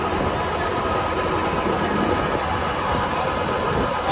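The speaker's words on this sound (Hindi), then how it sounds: "अब देख सकते हैं तीसरे लो के अंदर भी ट्रैक्टर जो बिल्कुल प्रॉपर चल रहा है।" A New Holland 5620 CRDI tractor working a rotavator through soil, a steady, loud engine drone with a dense, even mechanical roar throughout, no pauses and no talk.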